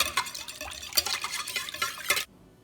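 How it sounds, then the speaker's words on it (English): Eggs and vanilla being whisked in a bowl, quick uneven clinks and liquid stirring scrapes close by for a couple of seconds before stopping abruptly into near silence. "go ahead and whisk that together well until you have a nice mixture"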